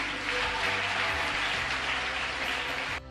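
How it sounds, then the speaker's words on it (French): Audience applause for the members of a jury at a televised quiz gala, a steady dense clapping from a crowd that carries on throughout and cuts off abruptly near the end. "Applaudissements pour les membres du jury."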